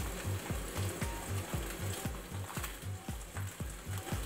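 Sea bass frying in a pan, cooked with chilli, ginger, garlic and spring onion, gives a steady close sizzle with a regular ticking rhythm running underneath throughout.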